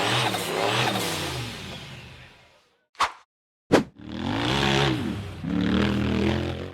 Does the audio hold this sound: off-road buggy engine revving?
yes